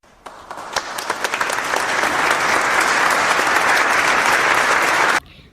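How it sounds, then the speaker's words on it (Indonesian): A classroom group claps during a microteaching economics lesson, beginning with a few scattered claps that swell into steady, loud, close applause before stopping abruptly. "Silahkan beri tepuk tangan"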